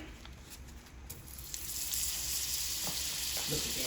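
Butter sizzling and frying in a pan with blackened, seasoned salmon and shrimp, a steady broad hiss that swells louder halfway through, with a brief spoken remark over it.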